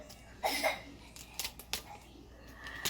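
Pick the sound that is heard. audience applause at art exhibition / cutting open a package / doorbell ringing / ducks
cutting open a package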